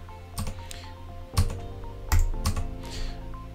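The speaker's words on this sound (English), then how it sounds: "If I press F3 on my keyboard" Computer keyboard clicks and taps, including the F3 key being pressed, several sharp, close key strikes spread unevenly over a few seconds with no talking.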